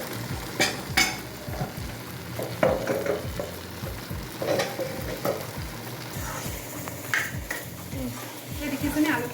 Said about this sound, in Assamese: দেখিছেনে আলুখিনি ভাজা হৈ গৈছে